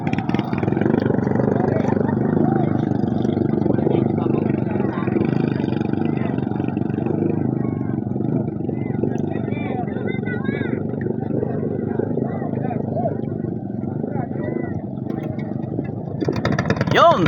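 A racing boat engine at a village boat race runs with a steady, loud mid-pitched drone that holds throughout, heard under an announcer's continuous commentary.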